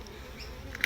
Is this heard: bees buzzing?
yes